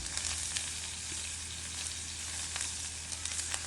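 Half an onion fries in a pan for dosa and idli chutney, producing a steady, even sizzle close up with light crackles and occasional soft stirring scrapes, with no voices.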